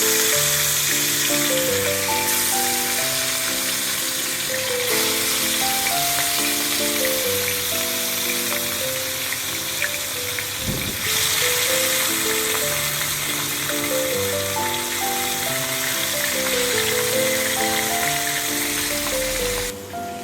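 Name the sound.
Katla fish frying in hot oil in a wok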